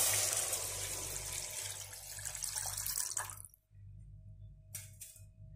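Water splashing into a pan of roasted ground masala for a Nashik-style amti, a loud steady rushing pour that stops abruptly midway, followed by a quiet pause and a brief final splash.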